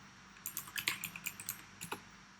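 About a dozen quick, crisp taps on a computer keyboard as Python code is typed in VSCode, close-up and fairly quiet, with a short pause before a final pair of strokes.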